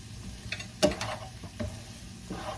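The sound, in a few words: stir-frying carrots and peppers in a pan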